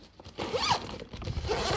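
The zipper on a large wheeled reusable grocery bag is pulled open in one quick, close, scratchy run lasting under two seconds.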